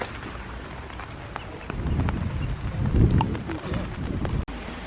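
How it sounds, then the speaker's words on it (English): Rain and gusting wind at Kerid Crater in Iceland, a steady outdoor wash of rainfall with wind buffeting that swells and fades, no speech. "it's raining and a bit windy"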